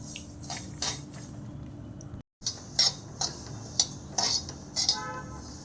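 Sesame seeds being dry-roasted in a pan for til sweets, giving a steady background rustle with repeated light metallic clinks and scrapes of a spoon against the pan, briefly cut by a short silence.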